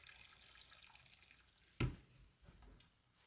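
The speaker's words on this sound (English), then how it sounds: "I'm just going to cover them with water" Tap water running into a pot to cover potatoes for boiling, a faint hiss and splash with one brief louder gush partway through, no voices.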